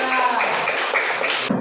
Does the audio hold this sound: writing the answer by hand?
no